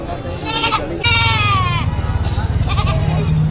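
Goats bleating at a livestock market, several quavering calls close by over steady crowd and vehicle background noise, with people talking nearby.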